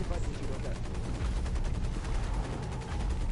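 Mech weapons firing in the Hawken video game, a dense, continuous clatter of gunfire with low booming thuds running steadily throughout, loud and close in the game mix.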